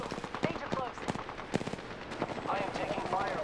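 Rapid bursts of video game gunfire crack out repeatedly amid players talking over voice chat, with sharp shots scattered throughout and a busy, noisy backdrop.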